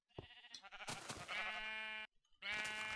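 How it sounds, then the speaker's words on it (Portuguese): Sheep in the Minecraft video game bleat twice, loud, nasal and wavering, each cry held about a second with a short gap between, after a few brief clicks. "Agora vamos a ouvir as ovelhas"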